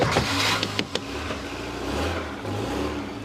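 A car pulls away with its engine revving, a mid-pitched drone that rises and holds, fairly close with a few knocks at the start.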